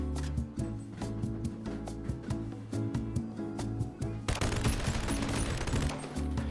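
Rapid bursts of gunfire from a gun in the VR game Bonelab, shots fired in quick succession, loud and close, over a steady backing of music.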